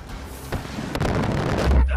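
Deep booming napalm explosions and crackling bursts roll through a noisy Far Cry 5 battlefield, with a heavy rumble swelling near the end.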